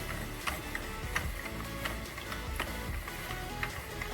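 A Sentro 48 knitting machine is cranked by hand, giving a steady run of rapid plastic clicks and ticks from the needles over a constant low background noise, close by.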